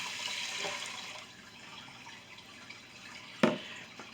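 Water running and splashing into an Instant Pot over two cups of rinsed long grain rice, a steady low wash with a sharper splash near the end, no talking.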